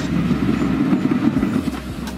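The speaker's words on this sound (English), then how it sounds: "Railbuses are small, self-propelled rail vehicles used for passenger transportation on railway lines with lower passenger demand." A railbus, a small self-propelled passenger rail vehicle, runs with a loud, close, rumbling engine drone and rhythmic rail clatter that stays steady throughout, without speech.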